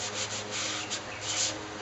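Steady hand sanding rubs back and forth across a cherry wood Chinese stool, a continuous close scratchy rasp with gentle pulses of each stroke and no voices.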